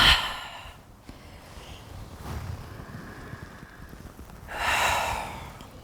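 Deep, audible exhales during a yoga neck and shoulder release, with a breathy push at the start and a longer, stronger one near the end, heard alone against quiet room tone.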